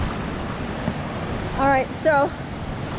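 Hermit Creek runs into the Colorado River near Hermit Rapids, making a steady, broad rushing wash; someone speaks briefly over it.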